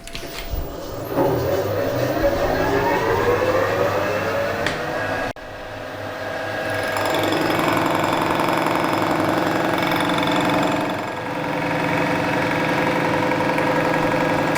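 A milling machine with a tilting table takes a one-millimetre cut, the motor humming steadily as the cutter chatters and grinds through the metal in a sustained, fairly loud rumble that dips briefly midway.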